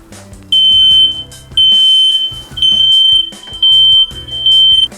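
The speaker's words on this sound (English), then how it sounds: "So you have smoke alarms going off in the common hallway." Interconnected smoke alarms in an apartment building's common hallway sound together, loud piercing beeps in repeated pulses with short gaps between them, close and harsh.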